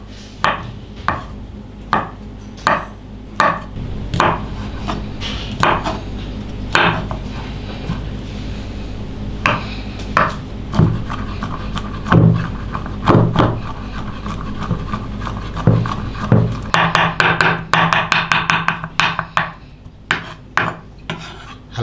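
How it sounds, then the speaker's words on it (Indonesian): A knife chops three sausages into small pieces on a cutting board, steady close knocks that speed up into a rapid run of chops near the end, loud and clear with no talk. "Tiga buah sosis, potong-potong kecil. Kemudian kita akan rajang juga."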